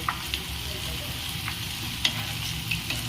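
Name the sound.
potatoes frying in a pan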